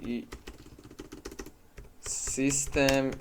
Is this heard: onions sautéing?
no